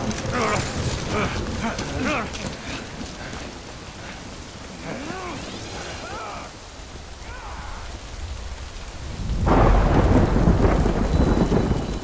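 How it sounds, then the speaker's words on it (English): Thunder rumbles and rain pours in a stormy scene from the video game Death Stranding Director's Cut. The rain swells sharply near the end, and game voices and effects sit beneath it in the early part. "Good thing it was raining."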